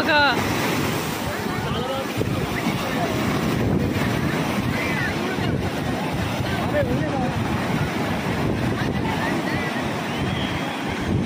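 Big ocean waves break on a rocky beach at sunset, a continuous loud roar of surf with wind buffeting the microphone and a voice talking now and then.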